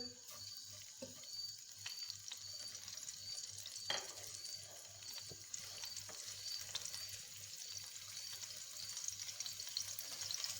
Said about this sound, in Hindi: इनको फ्राई करेंगे, थोड़ा सा भून लेंगे।